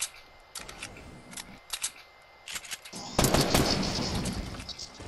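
Gunfire in the video game Fortnite: several short bursts of shots early on, then a louder, denser stretch of firing filling the second half, close and sharp with no talk over it.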